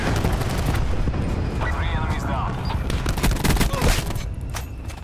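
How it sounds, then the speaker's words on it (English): Thresher ground-attack gunfire in Call of Duty: Black Ops 4 pounds as a dense, continuous barrage of rapid bursts and booms, loud and close, with heavy rumbling and faint in-game voices mixed in. "Battery authorizing Thresher ground attack."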